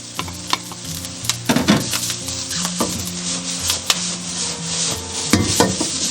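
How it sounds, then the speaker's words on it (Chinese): Dried shrimp and dried shiitake mushrooms stir-fried in a hot wok with oil and scallion whites, a sizzle punctuated by sharp scraping strokes of the spatula, with faint steady tones beneath. "接着我们先下入虾米跟干香菇，给它炒香。"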